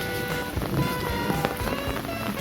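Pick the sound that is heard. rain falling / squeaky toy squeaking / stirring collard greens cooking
rain falling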